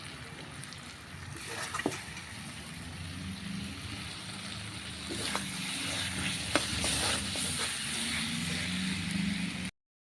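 Fried jackfruit, potato and prawns sizzling with spices in a pan, a steady soft frying hiss with a few clinks of stirring, fairly quiet and close, then abruptly cut off.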